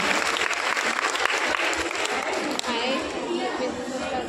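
An audience at a religious gathering applauds heavily, a thick continuous clatter of many hands with crowd chatter mixed in, holding strong before easing into a softer, thinner spatter of claps.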